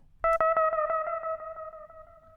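A synth note from Ableton's Echo effect in stereo ping pong mode, with a sharp attack followed by a rapid train of repeats that fade gradually and bounce back and forth between the left and right channels.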